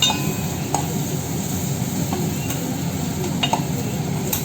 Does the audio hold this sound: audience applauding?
no